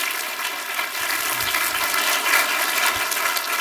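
Lecture audience applauding in a Korean talk hall, a steady wash of many hands clapping that fills the whole clip at moderate loudness, with no voices over it.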